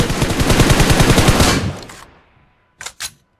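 A rapid, close burst of AK rifle fire in BGMI rattles for about a second and a half and fades out. Two separate single shots follow after a short silence.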